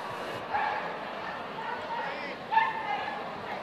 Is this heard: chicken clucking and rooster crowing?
no